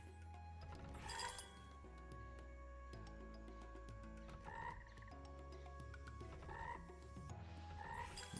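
In a frog-themed slot machine game, synthetic frog croaks sound several times at a regular pace over a bed of electronic casino music and chiming tones.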